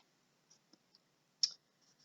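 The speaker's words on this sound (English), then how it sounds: "we're going to go ahead and click over here" A few soft computer mouse clicks while working in Android Studio, quiet and isolated, with one sharper, louder click near the middle and faint ticks before and after.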